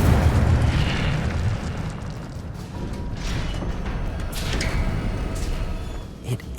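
Incendio fire spell cast in Hogwarts Legacy, a rumbling burst of flame with low booming and crackling bursts that swell and fade across several seconds, continuous and fairly loud with no talk.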